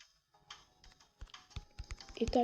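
Someone types a short word on a computer keyboard, a few scattered key clicks that grow into a quick burst of taps toward the end, close and fairly quiet.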